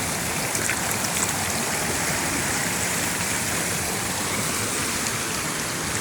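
Steady, full broadband rush of water pouring at the Curug Cikawah waterfall, close and continuous throughout with no voices over it.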